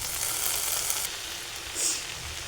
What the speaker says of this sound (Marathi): भेंडी टाकून घ्यायची आता यामध्ये।